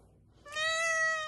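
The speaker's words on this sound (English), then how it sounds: "Here's my cat." A pet cat named Choo-Choo gives a single drawn-out meow at close range, loud and tonal, starting after a brief quiet moment indoors.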